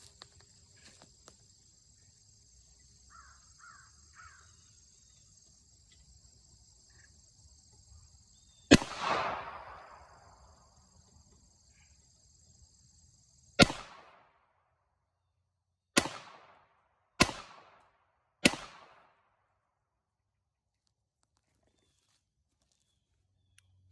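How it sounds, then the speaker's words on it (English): A Browning Buck Mark .22lr pistol fires five sharp shots downrange outdoors, one loud crack followed by four more at uneven intervals, each with a short decay, against crickets and a quiet, still background. "shoot 5 rounds downrange, then I'll turn the camera around, shoot 5 more rounds downrange"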